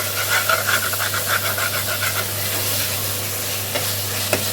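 Ground garlic and ginger paste gets stirred in hot oil, a loud continuous sizzle with rhythmic scraping strokes of a spoon, close and alone.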